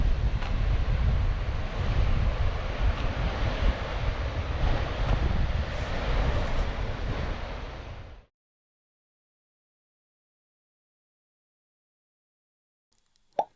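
Waves wash onto the East Sea shore at Chogok, Samcheok, a dense, steady roar of surf mixed with wind buffeting the microphone. It cuts off abruptly after about eight seconds into near silence, followed by a faint click.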